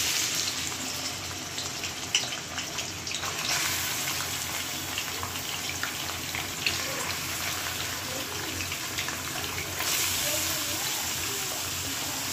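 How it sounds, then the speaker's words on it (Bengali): Chicken frying in hot oil, a steady broad hiss and sizzle that runs throughout, close and fairly loud, with a faint voice underneath. "তেলটা গরম হয়ে গেছে, আমি চিকেনটা ভেজে নিই"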